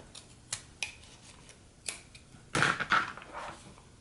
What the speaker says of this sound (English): And then I'm going to cut it down even more.